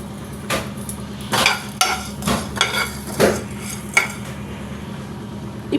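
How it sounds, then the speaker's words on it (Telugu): Coriander seeds, chana dal, cumin and dried coconut pieces dry-roast in a pan on a stove, with a spoon repeatedly scraping and clattering against the metal over a soft background crackle. "ఇప్పుడు స్టవ్ మీద పాన్ పెట్టుకుని ఒక స్పూన్ ధనియాలు, ఒక స్పూన్ పచ్చిశనగపప్పు, హాఫ్ స్పూన్ జీలకర్ర, 2 స్పూన్లు ఎండు కొబ్బరి ముక్కలు వేసి వేయించుకుందాం."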